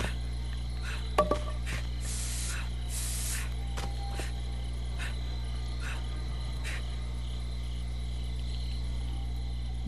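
A health spray is used in Friday the 13th: The Game at a cemetery, giving a couple of soft hissing bursts over a steady low hum and chirping, insect-like night ambience.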